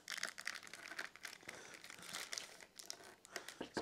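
A plastic packet of store-bought pizza dough crinkles steadily as it is handled at an outdoor grill cook-up, a quiet, close, continuous rustle with no talk.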